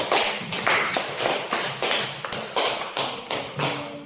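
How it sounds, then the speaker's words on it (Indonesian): Audience at a teacher training session clapping together in unison: about nine steady, evenly spaced claps, fairly close and with no talking over them. "Tepuk tangan."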